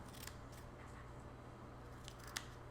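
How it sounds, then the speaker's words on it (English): Scissors snip triangles into kinesio tape, a few quick, light cuts close by in a quiet room, with a sharper snip near the end. "we're going to cut in a couple of triangles"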